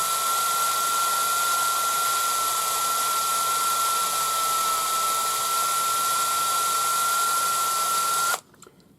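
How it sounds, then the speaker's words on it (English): Cordless drill spinning to twist 1 mm wire for jump ring chain making, a steady loud whir with a constant tone that runs almost nine seconds and then cuts off abruptly near the end. "using this cordless drill is quite easy because you just stick the wire in"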